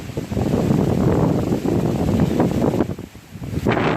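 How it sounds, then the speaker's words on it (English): Wind gusts batter the microphone outdoors among trees, a loud, steady roar that eases briefly near the end and then swells again. "Kind of windy too."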